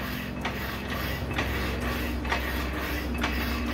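A power hacksaw cuts through steel with a regular back-and-forth stroke, about two strokes per second, each pass making a rasping scrape over a constant mechanical hum, with no talk.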